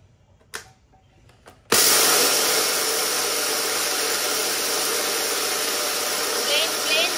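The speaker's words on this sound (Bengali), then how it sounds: "আগে এটাকে ব্লেন্ড করি" An electric blender grinding red lentils for a homemade skin pack starts abruptly after a few quiet knocks and runs as a loud, steady whirring roar until the end.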